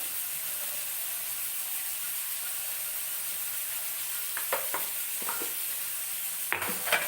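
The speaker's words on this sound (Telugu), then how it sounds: "వేసుకొని బాగా కలపాలి" Salt being stirred into a moong dal curry in a village kitchen, a steady soft simmering hiss with a few brief scraping stirs of a spoon near the end.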